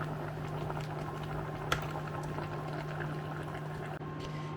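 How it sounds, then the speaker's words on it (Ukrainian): A pot of marinated bell peppers bubbling at a steady boil, a soft continuous simmering hiss with a low hum underneath and one brief clink. "Наш маринований перець кипить уже 35 хвилин з моменту закипання."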